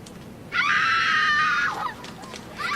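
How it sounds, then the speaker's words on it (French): A single loud, sustained scream used as a sound effect bursts in after a quiet moment, holds steady for over a second, then trails off. "Il me faut des cris"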